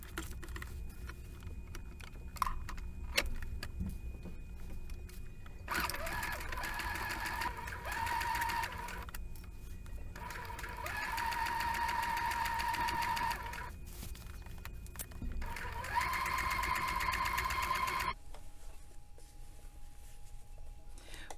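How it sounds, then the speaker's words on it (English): Sewing machine stitching the sleeve of a man's dress shirt, running in three steady whirring bursts of several seconds each with a rising hum, separated by quiet pauses and light handling clicks. "sew this on, and we'll see what it looks like"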